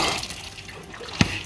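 Water runs steadily through a swamp cooler as it starts up, a soft continuous wash with one sharp drip or splash near the end.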